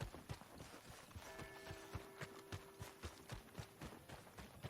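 Horse hooves clip-clop at a steady, brisk rhythm in Red Dead Redemption 2, fairly close and clear against a soft background hum with a few faint tonal notes.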